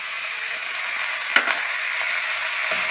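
250 grams of chicken pieces for a chicken soup go into a hot pan, giving a steady, moderate sizzle with a brief clatter in the middle.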